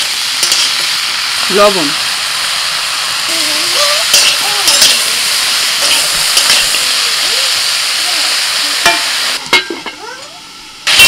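Food frying and being stirred in hot oil, a loud, steady close sizzle running throughout with occasional utensil knocks and a brief spoken word over it.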